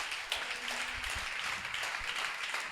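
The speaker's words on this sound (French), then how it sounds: "acclamons très fort le Seigneur" Church congregation applauding and clapping together in praise during a worship service, a dense, steady wash of many hands with no clear pauses.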